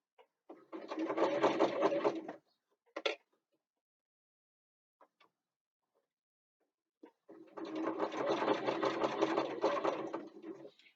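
Sewing machine stitching curved seams on a bookbag, running in two steady bursts of about two seconds each, separated by a quiet pause with a few small clicks and taps.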